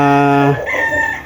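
A rooster crows once, a long loud harmonic call breaking off after half a second, followed by softer clucking from nearby chickens and brood stags on a farm.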